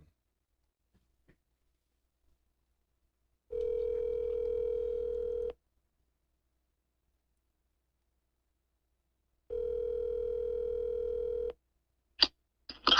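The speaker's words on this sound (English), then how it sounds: "I'm gonna see if I can't call him on the phone real quick." A telephone ringback tone during an outgoing call sounds twice as long steady buzzing tones about six seconds apart, separated by silence, followed by a couple of brief clicks.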